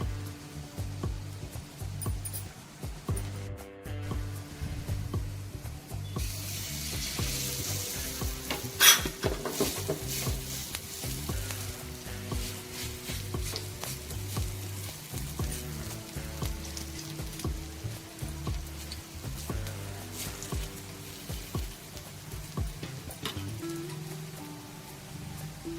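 Colocasia leaf rolls (kailyachi vadi) fry in hot oil in a pan, giving a steady, close sizzle with occasional stirring scrapes and one sharp clink midway, with no talking.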